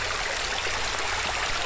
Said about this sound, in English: Look, the river.